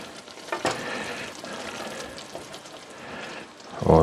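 Butter being stirred into thick, hot honey caramel in a pan on a cooling burner, a soft continuous sizzle with light scraping stir strokes and a louder clatter at the very end.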